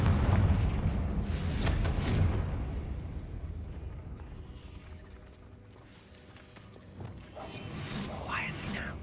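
A Confringo fire-blast spell from Hogwarts Legacy bursts loudly at the start, with booming rumble that fades over several seconds before smaller crackling impacts return near the end.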